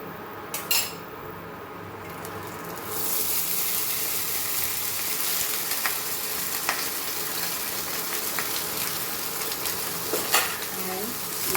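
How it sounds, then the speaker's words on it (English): Cooked rice added to a pan of saffron sweet mixture for Goan sakharbhat, with a brief spoon clatter against the pan, then a steady soft sizzle and occasional scrapes and clinks of stirring. "And now we will add our rice to this."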